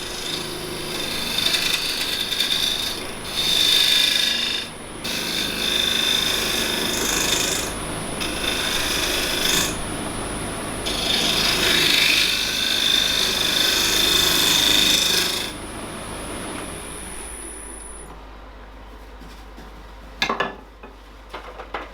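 Square scraper taking a very light cut on rough, awkward-grained wood spinning on a lathe, a steady broadband scraping hiss with a high whine that stops and restarts several times, then fades out as the lathe winds down.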